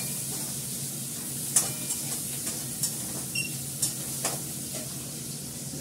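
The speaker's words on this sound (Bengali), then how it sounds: "ভালো করে এটাকে ফ্রাই করে নেবো" Fish frying in a pan, with a steady low sizzle and a few brief clinks and stirs scattered over it, moderately quiet and with no talking.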